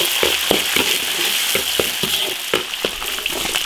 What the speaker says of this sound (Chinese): 炒成猪油